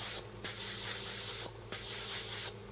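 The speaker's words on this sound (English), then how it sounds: "just go through and shave off little any nub marks" A blade scrapes nub marks off red plastic model kit parts in a series of short, close, dry rasping strokes with brief pauses between them.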